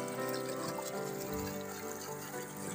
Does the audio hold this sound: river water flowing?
yes